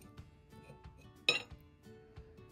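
A knife cuts through two microwave-boiled eggs on a plate, giving one sharp clink of metal on the plate partway through, with faint light scraping and tapping around it.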